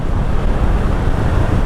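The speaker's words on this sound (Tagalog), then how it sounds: "Sarap, lakas ng hangin." Strong wind roars in a steady, heavy rush of low rumble against the microphone, with no voices present.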